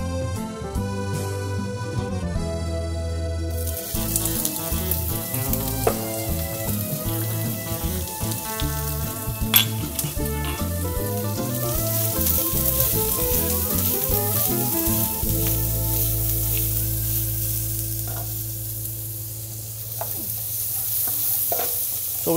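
Onion and garlic sizzle steadily in a pan as the base for a red wine risotto, a bright hiss running through the clip under tuneful background music.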